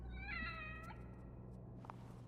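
A cat in The Evil Within video game gives one clear, close meow that rises and falls over about a second, followed by a faint short sound and a quiet background hum.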